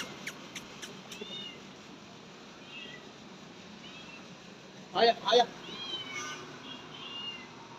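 A cat meows a couple of times, faint and somewhat distant, while a man calls to it in Hindi, coaxing it over, with his voice running through most of the scene.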